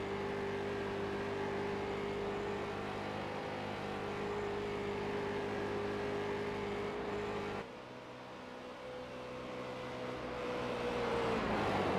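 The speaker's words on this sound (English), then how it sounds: "You can hear the engines." Race car engines in the iRacing simulator hold a steady, fairly quiet drone with a sustained tonal whine that shifts slightly in pitch as the cars run on the Texas oval, with no talking.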